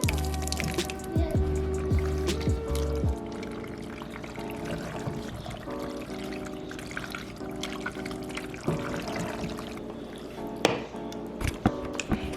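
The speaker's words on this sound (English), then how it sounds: "now we're going to take our sauce mixture and pour it nicely onto our pasta" A sauce mixture is poured onto cooked pasta for a simple vegan dish, a close liquid pour followed by drips and trickles with clinks of utensils, and no one speaking.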